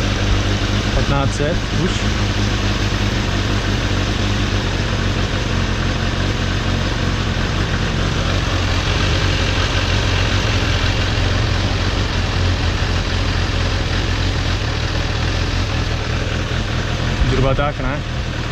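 A warmed-up Suzuki Bandit 600 motorcycle engine idles steadily and loudly close by for the whole stretch, with someone talking briefly over it near the start and end.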